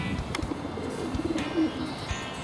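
Pigeons coo softly in a loft of 12 to 13 bred birds, low rolling calls repeating under a steady background hum.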